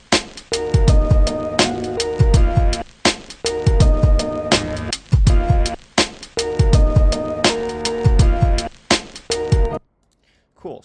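Chopped drum break samples sequenced into a boom bap beat, with punchy kicks, snares and hats repeating in a steady looping pattern, loud and up front, ending in a brief silence.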